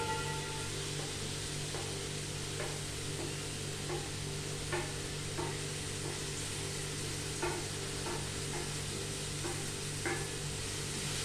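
Tomatoes and green chillies sizzling in a frying pan with browned onions, a steady soft hiss of frying with occasional light clicks from stirring or utensil taps.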